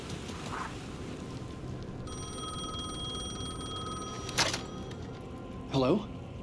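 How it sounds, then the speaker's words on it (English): A telephone rings in the video game Alan Wake 2, a sustained electronic ringing tone that starts partway through and carries for a couple of seconds over a dark, noisy ambient background, followed by a couple of brief louder knocks. "The phone was ringing again."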